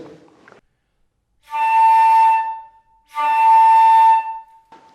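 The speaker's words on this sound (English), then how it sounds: "That's just using too much air or being way too tight here." Flute harmonic played with too much air and an overly tight embouchure: two sustained, bright, whistly tones, each about a second long, separated by a short gap, close and clear with no talking.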